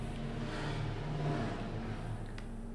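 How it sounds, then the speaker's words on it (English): A loud car engine in a video game drones with a low, steady rumble and hum, holding an even level with no talking. "That car sounds so goddamn loud for dude."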